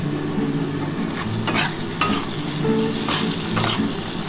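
Tomato frying with potato and onion in a pan, cooking down for a spicy Bengali potato curry with catla fish head. Steady close sizzle runs throughout, broken by a few sharp scrapes of a spatula stirring against the pan.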